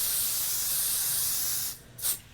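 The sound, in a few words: spray adhesive being sprayed on quilt fabric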